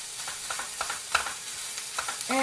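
Food browns in a home kitchen pan, giving a steady close sizzle broken by a few quick scraping stirs, with no voices.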